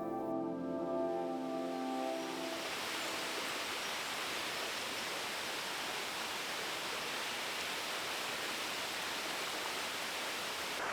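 A UK woodland waterfall roars steadily as a dense, continuous rush of falling water, loud and unbroken throughout, with a brief tonal hum fading out in the opening seconds.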